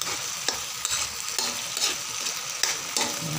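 Sardines cooking in a pan with a little oil, giving a continuous sizzle broken by several sharp clicks and scrapes of a utensil stirring, close, with no talking.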